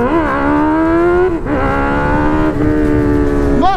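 A nearby motorcycle engine revs loudly with a strong, buzzy tone, dipping in pitch twice as the clutch is released, then climbing again at the end.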